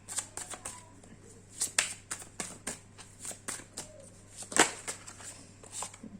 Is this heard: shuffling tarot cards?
yes